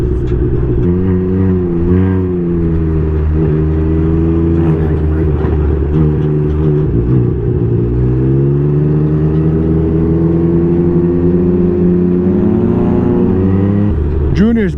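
A loud Can-Am Ryker three-wheel motorcycle engine idles and revs close by, its pitch rising and falling in several swells, with a voice talking over it.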